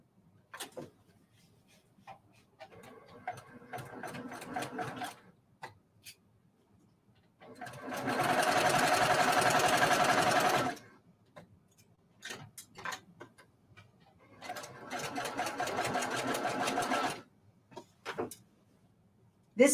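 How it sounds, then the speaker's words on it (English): A sewing machine stitching large quilt blocks together runs in two steady whirring bursts of a few seconds each, separated by quiet ticking, clicks and handling noises nearby. "This is my least favorite part of quilting, is sewing these big blocks together."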